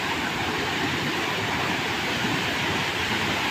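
Phulijharan waterfall in Kalahandi, Odisha, roars as a steady, loud, unbroken rush of falling water that fills the whole stretch without any talk.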